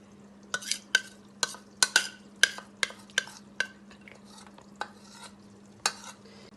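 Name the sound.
spoon smoothing vegan omelette batter in a pan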